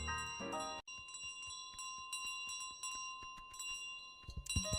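A bell rings in a goose video game, its tone sustained and ringing steadily for several seconds over faint background game sounds, with louder bursts at the start and end.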